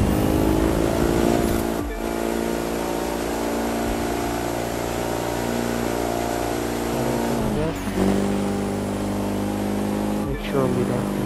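A street car engine roars loudly while racing in The Crew 2 video game, holding a sustained menacing drone, with a few sharp gear-shift dips and revving surges.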